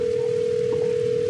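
A steady, continuous telephone dial tone from the horror game Six Nights at Pinkie's 2 holds at one unwavering pitch, clear and sustained, with faint low background noise beneath.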